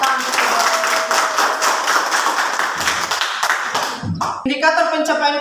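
A class of students clapping hands together in a rhythmic, sustained burst of close, loud claps that fades into a short pause before voices rise.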